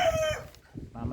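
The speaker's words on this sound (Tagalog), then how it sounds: "sumasabay ang mga manok na to eh" Close-up chickens on a layer farm raising Black Australorp hens, with a rooster's drawn-out crowing fading into short clucks and farmyard chatter.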